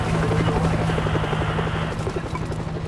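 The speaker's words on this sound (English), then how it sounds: "Is that a helicopter?" A military helicopter in the video game World War Z Aftermath: steady rotor thrum fills the scene, loud and continuous, with voices talking over it.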